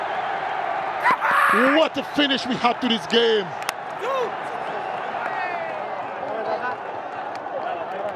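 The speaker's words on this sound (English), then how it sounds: "Hear the roar of the crowd" A stadium crowd at a BPL 2025 T20 cricket match roars and cheers after Fortune Barishal's victory over Khulna Tigers, a broad sustained din running beneath an excited commentator's voice.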